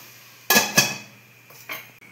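Two sharp metallic clanks ring out as a lid is set over a pan of paneer bhurji cooking with capsicum and kasuri methi, followed by two fainter clinks of metal on metal in a quiet kitchen.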